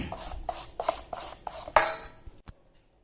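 Appam batter being mixed in a bowl, with a series of rhythmic scraping and tapping strokes against the bowl, followed by a sharper clink and then quiet.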